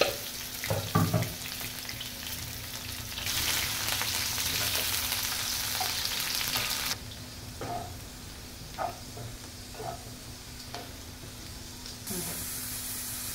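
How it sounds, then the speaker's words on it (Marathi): Sliced onions fry in two ladles of oil in a pan for mutton kheema, giving a continuous sizzling hiss with occasional clinks and scrapes of stirring; the sizzle swells for a stretch and then eases off. "त्याच्यासाठी टाकलेला आहे 2 पळी तेल, याच्यामध्ये टाकते कांदा।"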